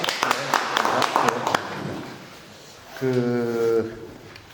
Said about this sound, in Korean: 박수로 청하겠습니다